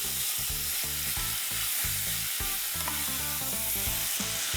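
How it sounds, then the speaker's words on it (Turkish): Steady, dense sizzling of meat frying in a nonstick pot without added oil, loud and continuous, with rhythmic clinks and scraping as it's stirred. "Eti güzelce kavuruyorum."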